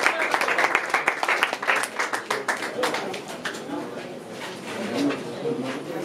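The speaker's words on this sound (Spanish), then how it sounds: "vamos a hacer un ruidito, loco, un aplauso" A small crowd at a freestyle rap battle between Uruguay and Argentina claps and applauds, strongest at first and then fading into scattered clapping, with people talking and murmuring throughout.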